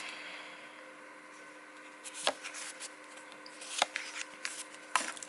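Tarot deck, a Sailor Moon–themed clone, shuffled by hand: three crisp riffling bursts of cards over a faint steady hum, close and quiet with short gaps between.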